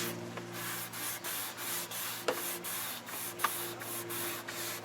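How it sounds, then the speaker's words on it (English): A wooden boat tiller being sanded by hand before a fresh coat of varnish, with steady rhythmic rasping strokes about twice a second, close and loud, plus a couple of sharper knocks and no talking. "we wanted to put another layer of varnish on our tiller, so we need to sand it"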